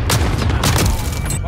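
Loud, close booming shotgun blasts in a video game firefight, two or three heavy reports crowding a short burst with no talk.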